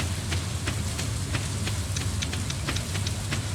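Steady rain hisses in the Kyrix video game, a constant even wash of falling drops with faint scattered patters over a low hum, no talk.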